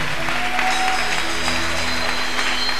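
A church congregation claps and cheers for the Lord, a continuous wash of applause with crowd noise and a steady hum running under it.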